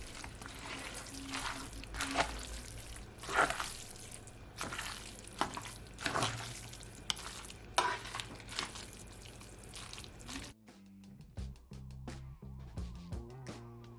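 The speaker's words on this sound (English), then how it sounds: "I'm gonna add my scallion. You wanna just mix it all in." Scallions are stirred into Jamaican pepper shrimp stir-fry spaghetti in a hot pan, with a steady sizzle and repeated scraping, tossing strokes near the mic, then a sharper, lighter clinking toward the end.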